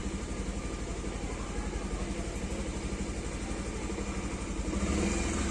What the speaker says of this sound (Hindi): बाइक हो गया वार्म अप।